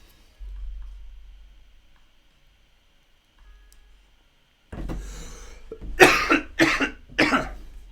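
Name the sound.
coughing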